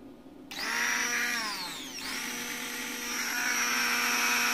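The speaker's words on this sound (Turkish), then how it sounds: "Bir blender makinemiz var. Fişe takacağız. Çalışıp çalışmadığına bakacağız." A blender switches on with a sudden loud whir, its pitch dipping briefly before settling into a steady, high motor whine, powered from a 36-volt DC UPS.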